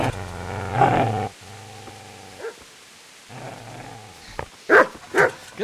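A dog barks and growls in the video game Kingdom Come: Deliverance, with a rough bark near the start, a low rumbling growl through the middle and several sharp, close barks toward the end.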